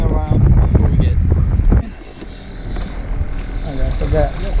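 Wind gusts over an open fishing boat on a cold, windy day in Charlotte Harbor, a loud steady roar of wind buffeting the microphone that drops off partway through to a lower rushing hiss.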